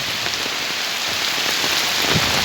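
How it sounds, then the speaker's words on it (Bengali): Heavy monsoon rain pours steadily on surfaces in Sylhet, Bangladesh, a dense continuous hiss of drops with no letup, close and loud throughout with no voices. "কি বৃষ্টি হচ্ছে এবং বৃষ্টি থামছেই না"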